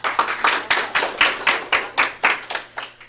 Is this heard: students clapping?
yes